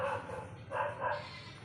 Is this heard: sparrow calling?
no